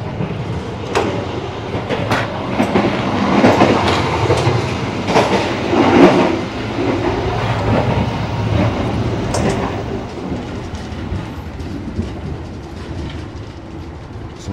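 Argo Bromo Anggrek passenger train running, heard from inside a carriage: a steady rumbling roll with faint rhythmic rail clicks and occasional knocks, moderately loud and continuous, without talk.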